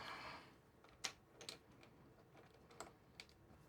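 Keys on a Freewrite Generation 3 smart typewriter are tapped in sparse, faint clicks, a handful of separate keystrokes in a quiet room with no talking.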